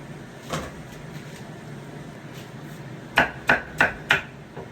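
Four crisp knife chops through bitter melon land in a quick, steady rhythm near the end, after a single earlier cut over quiet kitchen background.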